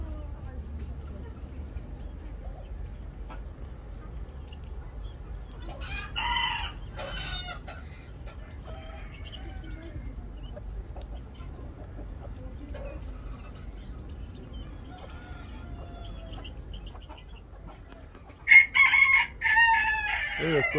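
White wild chickens and chicks cluck softly in the background, with a rooster crowing loudly twice, once mid-way and again near the end.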